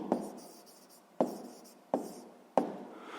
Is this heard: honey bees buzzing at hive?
no